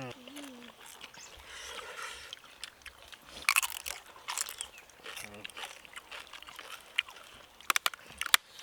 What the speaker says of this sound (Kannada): ಇವತ್ತೊಂದು ಸ್ಪೆಷಲ್ಲು ಕಡಕ್ ಜೋಳದ ರೊಟ್ಟಿ ಮುರ್ಕೊಂಡು ಎಣ್ಣೆ ಖಾರಕ್ಕೆ ಹಿಂಗೆ ಹಚ್ಕೊಂಡು